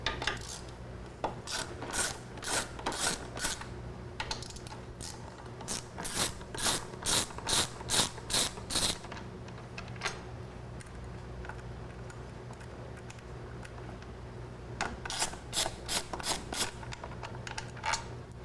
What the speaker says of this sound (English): Now you have 4 T40 bolts that you will need to remove.